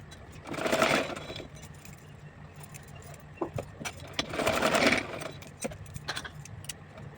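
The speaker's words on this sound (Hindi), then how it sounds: "इस तरह से दोनों साइड की किनारी को मैंने सिल करके इसको कंप्लीट कर दिया है" A sewing machine stitches the side edges of a small doll dress in two bursts of whirring, separated by quiet handling clicks, fairly close and moderately loud.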